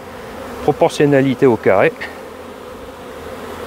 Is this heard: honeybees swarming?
yes